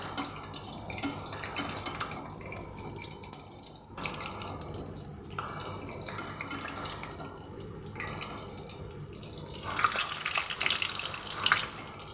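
Dough frying in hot refined oil in a kadai, a steady, continuous sizzle and bubbling hiss with no talk throughout.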